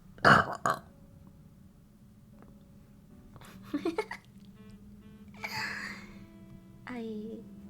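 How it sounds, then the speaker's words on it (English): A loud, brief burp bursts out at the start, followed by soft giggling and quiet talk over a faint background hum. "Wait, I need a burp."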